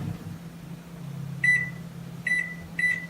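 A microwave oven cooking potato chips gives a low, steady hum, then beeps three times in quick succession near the end.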